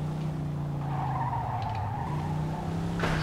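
Tires skid at length under a steady car engine drone in the Mafia II video game, ending in a sudden sharp crash burst.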